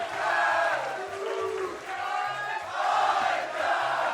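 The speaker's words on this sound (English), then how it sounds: "The crowd erupting for Ikan." A tournament esports crowd at a Pac-Man versus Ryu fighting-game match cheers and roars loudly, a sustained wash of voices under excited commentary.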